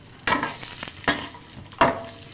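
Dry fruits and raisins roast in ghee, with a soft sizzle under three sharp stirring scrapes spaced about a second apart, heard up close.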